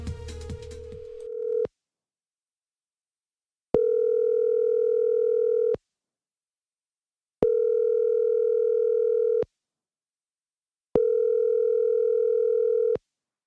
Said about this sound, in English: you're going to hear the phone start ringing